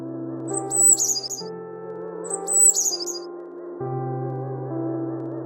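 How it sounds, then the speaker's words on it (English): Two short bursts of bright, high chirping birdsong ring out over a sustained musical backing with a steady drone. "Look, here is a songbird. What does the songbird say?"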